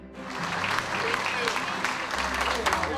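A crowd applauds Honor Flight veterans with dense, continuous clapping that stays loud throughout, while voices talk underneath.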